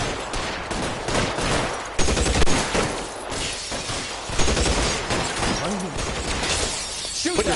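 Gunfire in L.A. Noire, a dense loud shootout of repeated pistol and rifle shots with shattering impacts, heavy bursts through the whole stretch and shouting voices mixed in.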